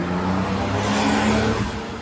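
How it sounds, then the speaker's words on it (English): A Porsche sports car drives past on a Tokyo street at night, a steady, loud engine hum with a low rumble that swells slightly mid-pass, with no one talking. "there goes a Porsche"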